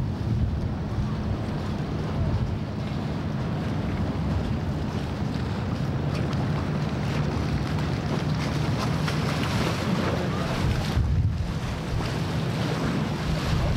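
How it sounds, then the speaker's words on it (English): Motorboat engines drone steadily over lapping river water and gusting wind noise on the microphone, a continuous rumble of passing boats. "So now this is all the boats."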